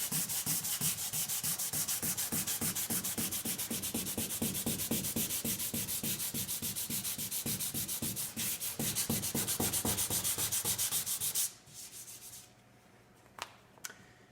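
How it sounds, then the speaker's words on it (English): Hand sanding on a kit car body panel during an exotic restoration, a steady rapid back-and-forth rasp of abrasive over the contours, loud and close, stopping near the end and leaving a quiet room with a couple of small knocks. "Sanding here by hand because I don't want to miss any of the contours"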